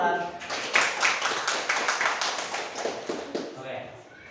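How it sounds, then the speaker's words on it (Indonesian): A classroom of students claps for a classmate, a dense burst of many hands clapping together, fairly close and lively, that gradually thins out toward the end. "Tepuk tangan buat Mahran."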